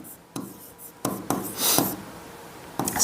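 Chalk or marker writing an equation on a board, several short scratchy strokes and taps close up, in irregular bursts with quiet gaps between them.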